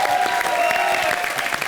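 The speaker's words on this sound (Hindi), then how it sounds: "जोरदार तालियां राहुल सर के लिए।" Enthusiastic applause from a TV comedy show studio audience, dense and sustained clapping with a faint tonal hum beneath it.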